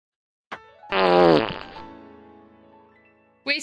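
Cartoonish fart sound effects from the Breath of the Wild video game: a short blip, then a long loud buzzing raspberry that trails off, and another burst starting at the end, with no talk over them.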